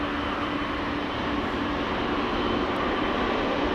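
Boeing 777 taking off at Amsterdam Schiphol Airport, heard as a steady, broad jet engine roar at moderate distance with no speech.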